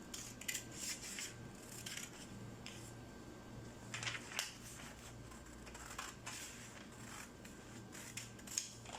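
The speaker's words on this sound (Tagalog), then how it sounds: "So, gupitin natin ng short sleeve." Scissors cutting fabric for a short puff sleeve, faint crisp snips in irregular clusters, close and quiet with a low background hum.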